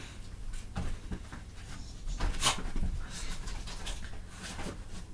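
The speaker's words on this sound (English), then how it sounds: "If you're wondering who I'm talking to my dog." A pet dog pants and whimpers close by indoors, a run of soft breathy puffs and faint whines with a few brief sharper bursts, and no talking.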